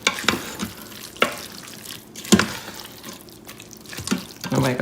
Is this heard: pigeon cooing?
no